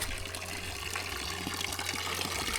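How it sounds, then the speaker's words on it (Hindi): Natural spring water gushes out of a mountainside in a green valley, a loud, steady, close rush of flowing water with no break and no talking. "और ये सामने में है नेचुरल स्प्रिंग वाटर,"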